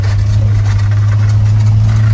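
A 1952 Ford F1 pickup truck engine drones loudly and close, a steady deep hum with constant vibration and no break.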